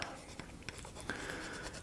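Pencil tip scratching across the underside of a guitar bridge during a 1964 Gibson LG-1 restoration, a light, dry, close scribbling with a few short strokes and soft taps, heard alone.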